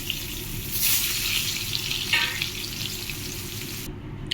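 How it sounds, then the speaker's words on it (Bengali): Potatoes fry in a pan of oil with a loud, continuous sizzle and crackle, and a brief stirring scrape partway through. "এখন আলুটা ভাজা হবে"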